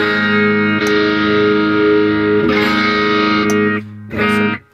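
An electric guitar plays through a Tube Screamer pedal for a crunch tone: sustained, overdriven chords ring out loud and close, struck again partway through, then choked short near the end.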